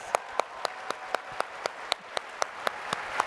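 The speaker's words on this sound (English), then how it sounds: "Give her a big round of applause." Applause at the ISPA 2019 award ceremony: evenly spaced sharp claps in a steady beat, a few per second, crisp and close over a soft hiss.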